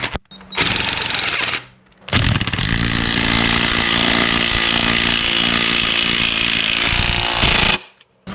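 A power tool runs in two loud, close bursts on the motor mount bracket bolts of a 1MZ-FE V6 in a '94–'03 Toyota Camry, Solara, Avalon or Sienna, a short one and then a long sustained whir, with no talk.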